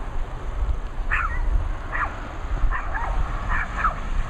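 A dog on the Betsie Valley bike trail near Beulah and Frankfort, Michigan, gives about five short barks and yips at a moderate distance over low outdoor rumble.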